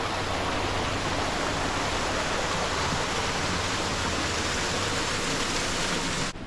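Water rushes loudly and steadily from a waterfall and stream in Solstice Canyon in the Santa Monica Mountains, Malibu, a dense, continuous roar heard up close that breaks off at the very end.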